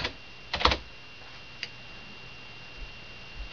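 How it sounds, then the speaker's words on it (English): Keystrokes on a computer keyboard while a password is entered for an Ubuntu install script: a quick cluster of sharp clicks, a lone tap, then another click at the end, all fairly quiet against a faint steady hum. "So we take the install script, drop it on the Penguin, and just type our password."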